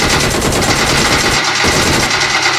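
Rapid automatic gunfire in a zombie-mode video game, loud and close, with bursts of shots continuing almost without a break and a slight dip in intensity partway through.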